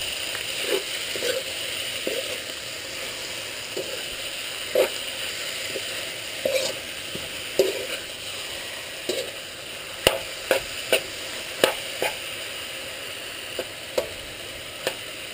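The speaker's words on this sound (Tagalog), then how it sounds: "Then let's saute that." Chicken breast sautes in a pan, a steady soft sizzle under scattered clinks and scrapes of a utensil stirring against the pan.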